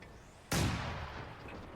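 A mortar round fires in a Company of Heroes-style strategy game, one sudden loud blast that decays into a long rumbling tail, with no talk over it.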